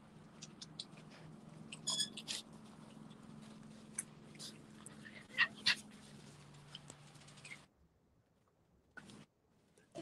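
Great Pyrenees puppies whimper and squeak in short high bursts, with a low steady hum underneath and small chewing and rustling noises, then near quiet toward the end.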